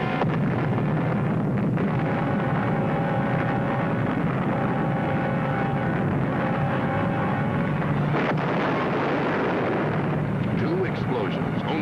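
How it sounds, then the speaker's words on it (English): Two huge blasts of a ship's nitrate cargo on a waterfront, heavy and rumbling, fill the whole stretch loudly and continuously as a dense roar rather than sharp separate bangs, with a voice talking over them. "two explosions, only seconds apart, go off with the force of the Nagasaki atomic bomb"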